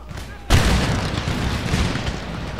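A cannon firing canister shot in Empire Total War bursts out suddenly, then gives way to a sustained roaring rumble of battle noise.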